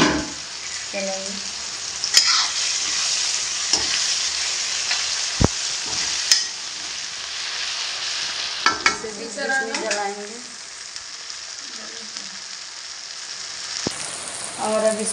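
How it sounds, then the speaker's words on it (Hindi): Chhole masala sizzles and fries in a pan while being stirred, a steady sizzle with scattered scraping clatters of the spoon and a faint voice in places. "फिर से एक बार चलाएंगे"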